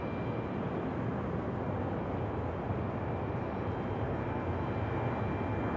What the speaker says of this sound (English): this Breeze A220 going to roll on down a little bit